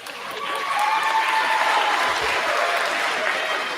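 Audience applause at the Marion High School Class of 2025 commencement ceremony, a dense, steady clapping that swells in and holds at an even level for several seconds without talk.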